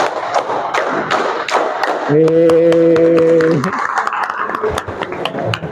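Students in a classroom clap in a counted, rhythmic pattern, with sharp, steady claps running throughout and voices sounding together partway through.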